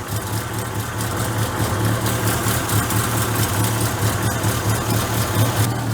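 A Peugeot 205 GTI engine idles steadily with a low, even rumble and slight vibration, close by and uninterrupted.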